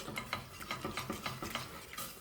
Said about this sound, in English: Just whisking the milk into the flour